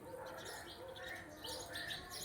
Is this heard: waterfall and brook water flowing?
no